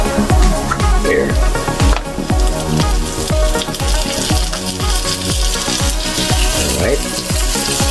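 Butter melting and frying in a pan with steak, loud continuous sizzle with crackling pops and spatula scrapes, a brief spoken word over it.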